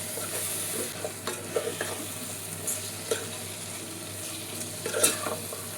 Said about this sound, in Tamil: தக்காளி சேர்த்த பிறகு நல்லா வதக்கிக்கணும்.